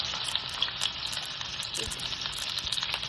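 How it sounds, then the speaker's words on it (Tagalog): Onions frying in olive oil in a hot pan, a steady close sizzle that hisses throughout with small crackling pops. "Mainit na yung pan natin. So, ilagay na natin yung sibuyas."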